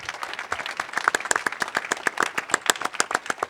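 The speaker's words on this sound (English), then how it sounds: "Everybody give a round of applause" Conference audience applause: a dense patter of clapping hands in a hall, moderately loud and sustained, with no talking over it.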